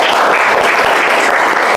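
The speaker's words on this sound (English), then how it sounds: "Please give them a big round of applause." Applause from an audience at a faculty development programme session, loud continuous crowd clapping filling the short stretch evenly.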